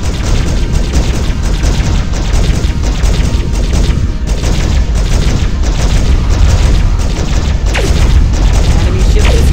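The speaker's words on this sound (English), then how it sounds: "Enemy ship destroyed." An enemy ship explodes in the space combat game Starpoint Gemini 2, a loud, continuous roaring boom with crackling debris that stays dense and heavy throughout, with no speech over it.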